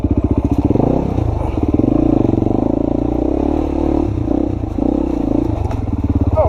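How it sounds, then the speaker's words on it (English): A Beta two-stroke dirt bike rides off-road, its engine buzzing and revving loudly and continuously up close, with clattering from the rough trail. "Going through this section with the instant power and suspension of my Beta"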